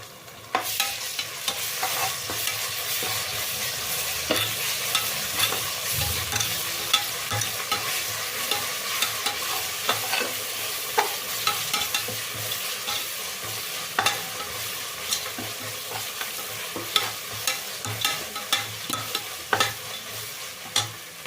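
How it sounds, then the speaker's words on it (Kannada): Ginger garlic paste fries with onions in a pan for chicken pulao, giving a continuous close sizzle with frequent scraping stirs and clinks of the spoon, steady throughout with no talking. "ನಾನು ಒಂದೂವರೆ ಸ್ಪೂನಷ್ಟು ಶುಂಠಿ ಬೆಳ್ಳುಳ್ಳಿ ಪೇಸ್ಟ್ ಹಾಕ್ಕೊಳ್ತಾ ಇದ್ದೀನಿ"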